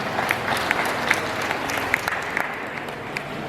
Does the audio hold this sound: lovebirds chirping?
no